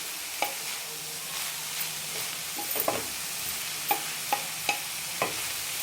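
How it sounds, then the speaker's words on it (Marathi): Spring onion greens sauté in oil for a village-style spicy vegetable dish, giving a steady soft hiss of frying with faint, scattered taps and scrapes of stirring, quiet and close, no one talking. "छान याला तेलामध्ये अशा प्रकारे परतून घ्यायचं"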